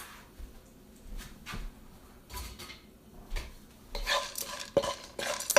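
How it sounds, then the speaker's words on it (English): Toasted seeds tossed with soy sauce in a pan, heard as repeated scraping strokes of a utensil against the metal that grow louder and clatter more toward the end, with no speech. "So we'll just mix that little bit of soy sauce or tamari, I guess, if you're wanting gluten-free, in with these seeds."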